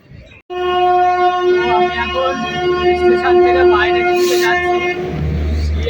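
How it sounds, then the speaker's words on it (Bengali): The Puri Kamakhya Express rolls into Katwa Junction with a long sustained horn blast over the rumble of the approaching train, close and loud. "ওইদিকে ঢুকছে দেখেন পুরী কামাখ্যা এক্সপ্রেস"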